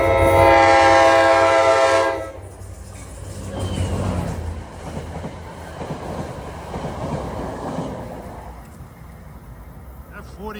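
A New Jersey Transit EMD F40PH-3C diesel locomotive blasts a loud sustained horn chord for about two seconds. Its rumbling engine and rolling wheels follow as it arrives from Hoboken at a station.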